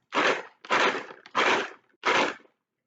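Four short rattling shakes of a plastic bag of trail mix, evenly spaced like a rhythmic shaker, close and fairly soft.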